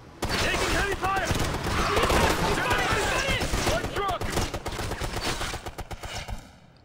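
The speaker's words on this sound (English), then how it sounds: "Taking heavy fire!" Heavy gunfire in the video game Ghost Recon Future Soldier, with dense bursts of rifle and automatic fire rattling almost nonstop for several seconds, mixed with shouted voices and game effects before cutting off.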